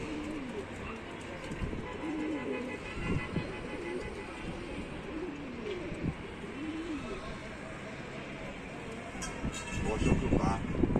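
Pigeons coo at a rooftop loft, soft repeated throaty calls in a rolling rhythm, fairly distant and quiet beneath a constant background hum, with people talking nearby.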